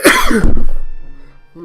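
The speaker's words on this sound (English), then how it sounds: "Sneeze." A single sharp human sneeze bursts out loud and close, followed by a brief breathy tail fading into near silence.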